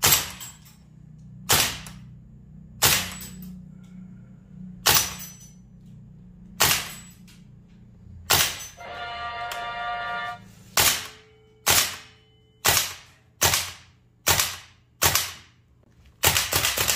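A VFC Umarex HK PSG-1 gas blowback airsoft rifle dry fires, about a dozen loud sharp mechanical cracks of the bolt cycling at a steady pace, with a brief buzzing tone in the middle.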